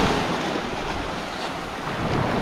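Strong, steady wind in Ilocos Norte roars across the microphone, a loud broadband rush with gusts and a hollow, surf-like texture throughout.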